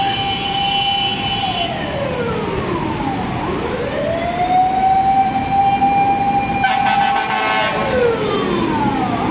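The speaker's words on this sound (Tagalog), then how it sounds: "Malaki fire truck." A fire truck siren wails loudly nearby on EDSA in Quezon City during a fire, its pitch sweeping down and up in slow cycles, with a brief burst of horn-like blaring near the end.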